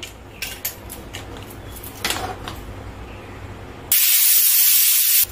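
Pressure cooker on a gas stove cooking Bengali mutton curry with potatoes, a few clinks of metal lid and utensils, then a sudden loud, sustained hissing whistle of escaping steam, close and alone.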